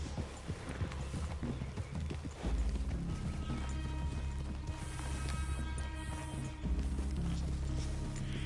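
Horse hooves clip-clopping in the video game Red Dead Redemption II, a quick rhythmic run of hoofbeats with heavy thuds and faint mechanical clatter, close and continuous with no speech.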